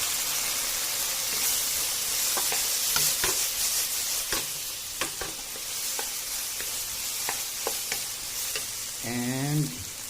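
Pork stir-frying in a hot pan with oyster sauce gives a loud, steady sizzle and hiss, broken by sharp scraping clicks as a utensil stirs, with a brief squeaky scrape near the end.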